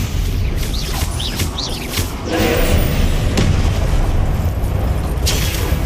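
Spellcasting combat in Hogwarts Legacy, a series of booming magical blasts and thuds over a continuous rumbling battle backdrop, with several loud impacts close together.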